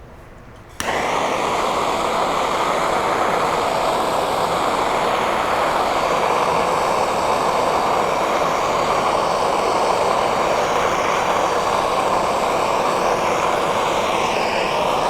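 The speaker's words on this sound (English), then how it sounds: "We're using a map torch to heat up the metal." A MAP gas torch flame heats steel for heat treating small clay carving tools, giving a steady, loud roaring hiss that starts abruptly after a brief quiet moment and runs unbroken to the end, with no talking.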